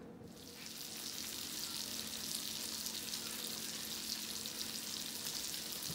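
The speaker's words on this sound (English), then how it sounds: "I am frying my pork sausages, homemade pork sausages" Homemade pork sausage patty frying for a breakfast sandwich, a loud steady sizzle with dense crackling spatter that keeps up evenly throughout and has no voices over it.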